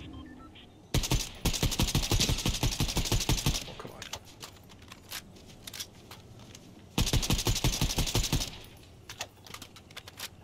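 Fortnite gunfire: two long bursts of rapid automatic shots, loud and close, separated by a few seconds of quieter scattered game sounds, with brief talk between.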